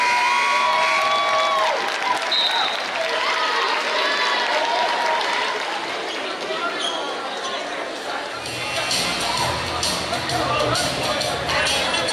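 A crowd in a basketball gym applauds and cheers for the cheerleaders, loud dense clapping and shouts with babble throughout and a burst of louder cheering near the end.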